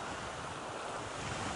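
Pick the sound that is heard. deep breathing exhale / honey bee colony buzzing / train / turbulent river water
turbulent river water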